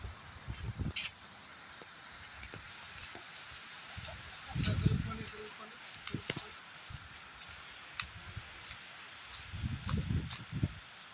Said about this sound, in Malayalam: പക്ഷെ ഇവിടെ കാറ്റ് വീശുമ്പോൾ നമുക്ക് നല്ലോണം ഇങ്ങനെ മഴ വരണത് പോലെയാണ് തോന്നുന്നത്. പക്ഷെ അങ്ങനെ മഴയില്ല, കാറ്റ് മാത്രമേ ഉള്ളൂ.